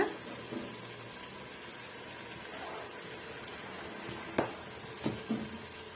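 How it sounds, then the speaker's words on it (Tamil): Marinated chicken pieces tipped into hot masala for Chettinad chicken biryani: a soft, steady sizzle, with a few sharp clatters of a spoon or pan near the end. "ஊற வச்சிருக்க சிக்கன் பீஸுகளை இதோட நம்ம சேர்த்துடலாம் இந்த மசாலாவோட சேர்த்து"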